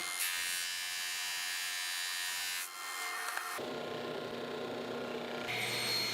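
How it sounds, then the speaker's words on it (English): A drum sander whirs steadily as it flattens oak lumber, a close, loud buzzing drone that shifts in tone partway through as the board feeds. "Then I'm going to put it through the drum sander to get it flat."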